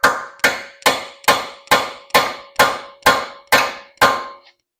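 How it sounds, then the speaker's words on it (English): Ten sharp metallic hammer strikes on a bolt driving out a Volkswagen GTI or Audi A3 wheel bearing, at an even, steady pace, each ringing briefly, loud and close. "I'm gonna grab my hammer, and I'm gonna hammer it steadily"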